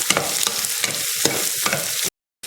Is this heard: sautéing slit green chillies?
yes